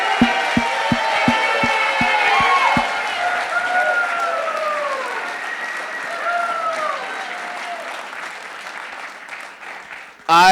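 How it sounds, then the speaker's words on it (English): A large crowd at a recovery event in Lancaster, Pennsylvania, gives a loud, sustained round of applause with cheering and whoops, opening with a few sharp rhythmic thumps before the roar carries on and tapers. "give me the biggest possible round of applause you can"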